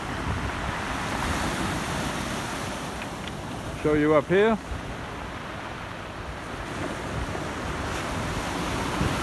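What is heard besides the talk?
ocean waves and surf on a cloudy day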